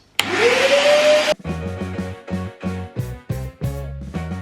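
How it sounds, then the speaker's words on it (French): A loud vacuum cleaner runs in an entrance hall, a steady broadband roar with a rising motor whine that cuts off abruptly after about a second, followed by short bursts of piano-like melodic music. "il faudrait vraiment qu'un jour j'investisse dans un aspirateur un peu plus léger et moins bruyant parce que celui-ci, il fait un boucan"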